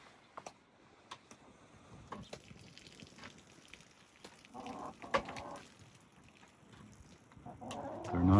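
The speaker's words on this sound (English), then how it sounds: "Let's let the chickens out, see if they eat mice." Chickens let out of their pen cluck and murmur faintly in scattered bursts amid quiet rustling and light knocks. The sounds grow louder near the end.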